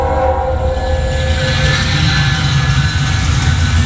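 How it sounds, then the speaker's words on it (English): A train horn in a Roblox simulator of a Florida East Coast freight train, a loud sustained blast over the low rumble of rolling railcars. "do the simple two long, one short, one long thing for horns"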